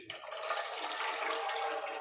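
Water pours steadily from a vessel into a cooking pan holding washed, soaked chickpeas, a continuous close splashing rush lasting about two seconds with no talk.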